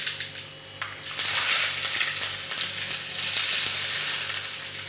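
Mustard seeds crackling and spitting in hot oil for a tempering with curry leaves and asafoetida, a close, continuous sizzle with sharp popping bursts throughout and no talk.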